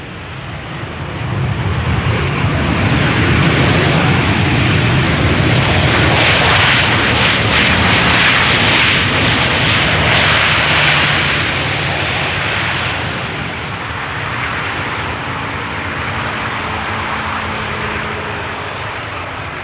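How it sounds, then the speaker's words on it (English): A Transavia airliner arrives at Amsterdam Schiphol from Alicante, its jet roar swelling from a distance to a loud, broad peak overhead, then fading into a lower lingering rumble with engine whine, alone without voices. "Next up is Transavia, arriving from Alicante, flight 6144"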